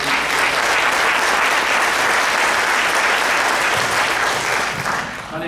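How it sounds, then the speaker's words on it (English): Sustained, loud applause from an audience at a school board candidate forum in a middle school, many people clapping densely and evenly for the musicians, tapering slightly at the end. "could we get some applause for those fine musicians that entertained us tonight?"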